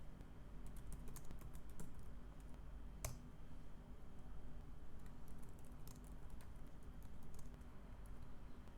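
Steady typing on a Windows computer keyboard while a text file is created, with quiet, continuous key clicks and no voices.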